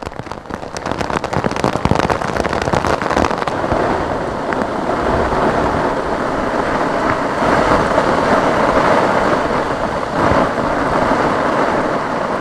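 Heavy rain from Cyclone Montha falls over Warangal district, Telangana, as a loud, continuous dense downpour with sharp crackling bursts early on.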